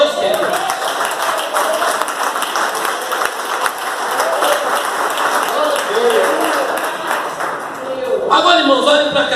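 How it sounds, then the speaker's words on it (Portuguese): A church congregation at a Sunday worship service applauds in a steady, fairly loud wash of clapping, with a preacher's voice speaking over it and a brighter burst near the end. "Você pode aplaudir esse Deus, querido?"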